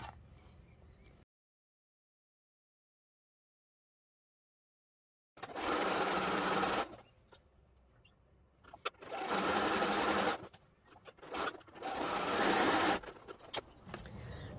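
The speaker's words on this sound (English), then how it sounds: "we're just going to sew our components onto the end of the row" A sewing machine stitches quilt block components together for a 15-inch Churn Dash block, running in several loud bursts of rapid mechanical whirring separated by pauses and a stretch of silence.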